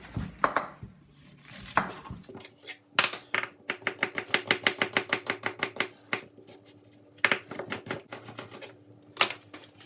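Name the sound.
knife finely dicing an onion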